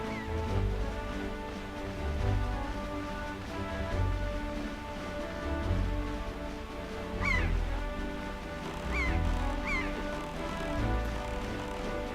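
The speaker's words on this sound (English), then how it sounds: "Oh, and the way that seagulls come along to fly with you." Seagulls calling in The Legend of Zelda: The Wind Waker HD while sailing, a few short high cries rising over steady game music and ocean ambience, no talking.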